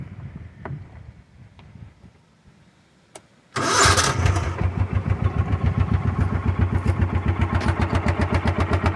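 A Kawasaki KAF 400 engine, roughly a 400cc go-kart-type engine with a CVT and a rust-holed exhaust, cranks briefly, then catches and settles into a loud, rapid, even idle putter.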